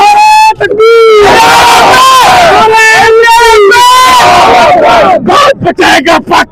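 A large crowd roars a loud chanted response at a political rally in Pakistan, with repeated swelling shouts of many voices, rising and falling in waves that end in short bursts.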